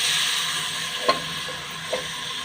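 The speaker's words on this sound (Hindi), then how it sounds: "अब मैं इसमें प्याज डालूंगी।" Chopped onions going into hot oil in a pan for a mutton and soya vegetable curry, with a steady close sizzle and two brief utensil taps.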